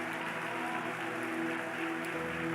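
A church congregation applauds together in a continuous, even roar of clapping that holds steady from start to finish. The sound is fairly faint and distant, with no voices standing out above it.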